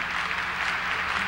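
Theater audience applause, a continuous wash of many hands clapping that blurs into an even roar, steady and somewhat distant.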